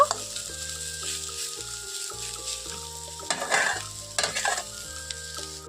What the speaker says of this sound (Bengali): এখন আমার শাকটা খুব ভালোভাবে ভেজে নিয়েছি